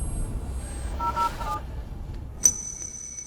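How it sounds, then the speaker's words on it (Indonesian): A telephone number is dialed in a series of short tones, with a faint low rumble underneath and a brief sharp beep near the end; no voices. "Aku telepon dia sekarang."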